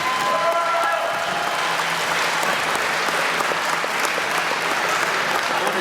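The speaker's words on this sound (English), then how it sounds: "Let's give these guys a big round of applause" School band audience applauding at a spring concert, steady dense clapping from a sizable crowd that holds loud and continuous throughout, with a few faint brief tones early on.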